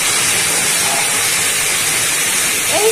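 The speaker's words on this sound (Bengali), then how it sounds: "এবার এর মধ্যে আমি এই যে শিমটা আর বেগুনটা সিদ্ধ করে রেখেছিলাম ভেজে নেব।" Boiled flat beans and eggplant fry in a pan with bori, green chilli and garlic, giving a steady, loud, even hiss that holds throughout with no talking over it.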